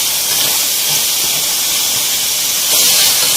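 Minced meat keema cooks with chopped tomatoes in a pan, giving a loud, continuous close-up hiss of sizzling oil that swells slightly near the end, with no talking.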